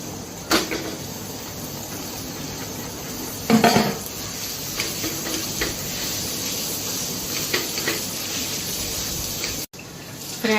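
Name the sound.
mashed potatoes and peas being sautéed in a pan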